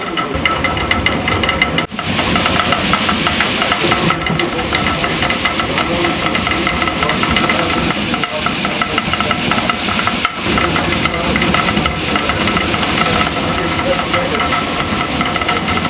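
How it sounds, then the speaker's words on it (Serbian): A watermill's millstone turns and grinds grain while a wooden clapper skips across the stone, making a loud, steady rumbling, hissing churn that runs unbroken throughout. "Na kamenu je čeketalo koje skakuće po kamenu koji se okreće i melje žito."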